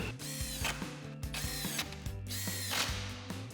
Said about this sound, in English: Now we'll reinstall our 10mm screws.